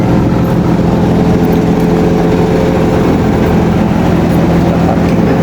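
A car engine idles steadily in a parked spot in hot weather in Brunei Darussalam, a continuous low rumble with a broad even noise bed and no talking.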